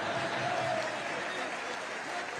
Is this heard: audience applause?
yes